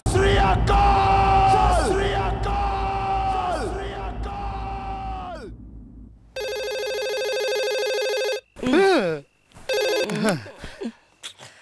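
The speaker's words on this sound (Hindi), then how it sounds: "किसका फोन है?" A loud shouted Sikh chant, "Jo Bole So Nihaal, Sat Sri Akal," gives way to a phone ringing in steady electronic pulses, followed by brief bursts of Hindi voices.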